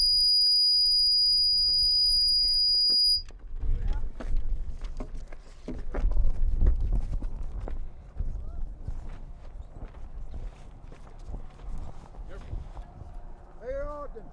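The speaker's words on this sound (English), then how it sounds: "I think these guys are on horses" Horses ridden by backcountry horsemen arrive at a monument dedication, hooves clip-clopping on the ground in an uneven walking rhythm, moderately close, over crowd noise and a few voices.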